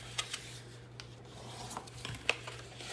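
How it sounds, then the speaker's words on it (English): Faint soft rubbing strokes as a tool burnishes score lines on paper, quiet scrapes with a couple of light taps over a low background hum. "So now let's go ahead and burnish all of our lines,"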